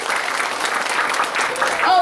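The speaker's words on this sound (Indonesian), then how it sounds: "Boleh dong tepuk tangannya." Audience at a motivational seminar in Indonesia breaks into sustained, dense applause filling the room, with a voice rising over the clapping near the end.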